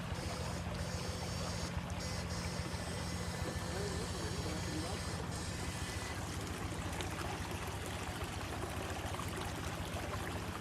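A small fishing boat motor drones steadily throughout, loud and close, with water noise and faint voices underneath.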